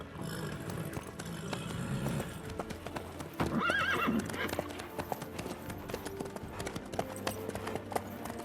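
Horse hooves clip-clop steadily while riding in The Witcher 3, with a whinny partway through and game ambience underneath; no speech over the hoofbeats.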